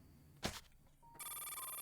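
A phone rings in the video game Blade Assault when calling the character Honk: a short thump, then a steady, faint electronic ringing tone begins.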